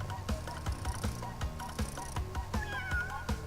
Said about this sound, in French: il miaule, quoi. Un chat.